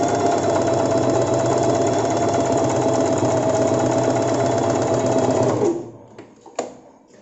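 A sewing machine stitching a saree petticoat hums loudly and continuously with a fast mechanical whir, then winds down and stops, leaving a couple of faint clicks.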